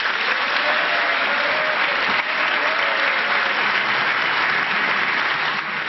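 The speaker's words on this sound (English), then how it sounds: "Applause from the party conference taking place in Belfast" Sustained, loud applause fills the hall at the DUP party conference in Belfast, a dense and unbroken roar of clapping from a large crowd.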